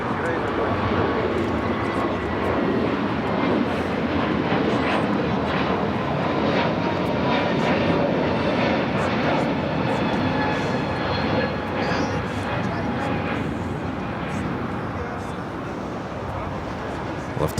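Lufthansa Airbus A340-300 in Star Alliance livery taxiing toward the gates at Los Angeles airport, a steady broadband jet rumble with faint whining engine tones that holds at an even level throughout.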